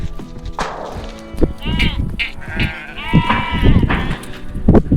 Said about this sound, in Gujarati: બકરીઓને બધે આમ દોડતી આવશે પાણી પીવા આ જુઓ કેટલી બધી આવી ગઈ છે